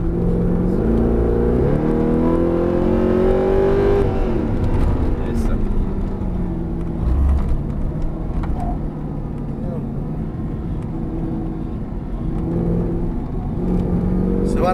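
An exotic car on a drive in Mexico brakes and then accelerates hard at full throttle. The engine roars loud and close, its pitch climbing and falling, and it runs steadily throughout the clip.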